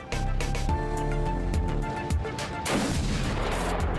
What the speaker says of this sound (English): You shooting a shotgun at me, bro?